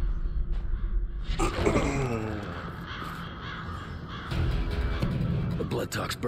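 A flock of crows caws inside the video game Prototype, harsh calls rising over dense game noise and effects, with speech-like sounds in the mix throughout.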